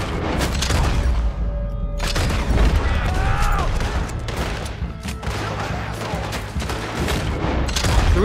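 Gunfire during the Saint Denis bank robbery shootout in Red Dead Redemption 2, with dense, rapid volleys of shots and heavy booms crackling nonstop at close range while players talk over it.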